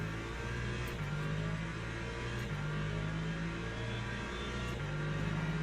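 Hypercar and LMP2 race cars in the Le Mans Ultimate racing game at a Daytona 2.4-hour event, with a steady loud engine drone that drops in pitch at each upshift, roughly every couple of seconds, and no talking.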